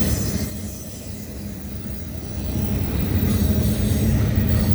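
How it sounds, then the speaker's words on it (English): A CPKC freight train, symbol 119, rolls past Cobourg VIA station in Ontario at night, a steady loud rumble of rail cars with wheel noise and squeal that swells slightly toward the end, with no talk. "Symbol on this train is CPKC 119."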